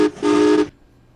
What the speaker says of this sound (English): Nice train.